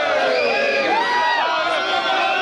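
Fans cheer and shout for footballer Dani Alves at an airport arrivals area, a dense, loud crowd roar with whoops and excited voices mixing together continuously.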